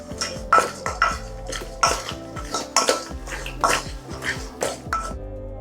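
Metal spoon clinking and scraping inside a pot while scooping Jamaican-style curry chicken foot, a series of sharp irregular clanks and taps, close and alone.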